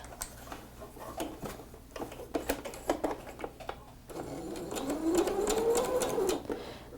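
Sewing machine joining quilt pieces for an Ohio Star mug rug, heard as a steady close mechanical whir that builds in the second half after a stretch of light ticking and handling clicks.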